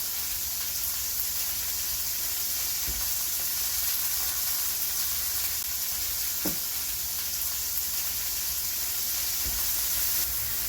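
Chicken roulades browning in a hot pan, a steady loud sizzle and hiss throughout with a few faint clicks and scrapes as they are turned.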